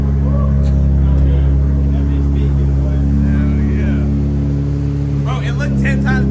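A car run with no hood, its manifold painted and traction and stability control switched off, holds a loud, steady burbling engine note with slight revving throughout, while people talk over it.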